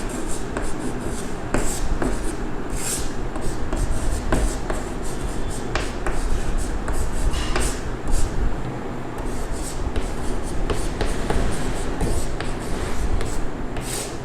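Pen or pencil writing numbers by hand on paper, worked through as a Class 10 real-numbers exercise on Euclid's division lemma: continuous close scratching and rubbing strokes with small taps, steady and near, with no talking.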